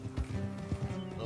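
Horses galloping in Red Dead Redemption 2, steady rhythmic hoof clops at close range over a faint musical drone, a quick run of thudding beats.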